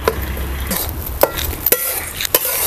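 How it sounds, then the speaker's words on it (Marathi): Gram flour roasting in ghee for besan ladoo is stirred in a pan, with a spatula scraping and tapping against the metal in irregular strokes over a soft, continuous hiss. No voices. "थोडं थोडं घालून आहे ना आपल्याला ते बेसन पीठ चांगलंसं भाजून घ्यायचं"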